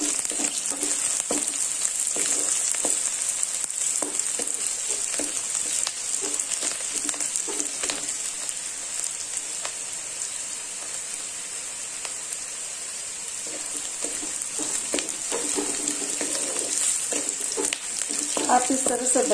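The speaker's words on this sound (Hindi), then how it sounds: "मैंने प्याज को अच्छी तरह से ब्राउन होने तक भून लेंगे।" Sliced onions frying in a pan for a spiced potato curry, a steady bright sizzle with occasional stirring scrapes running continuously at moderate loudness, no speech.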